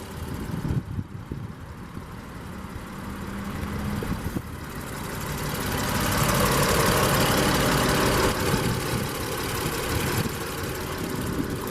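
A 2018 Volkswagen Atlas SE with a 3.6-liter V6 and 4Motion idles steadily with a low, even engine hum. The sound swells slightly partway through and stays fairly quiet throughout.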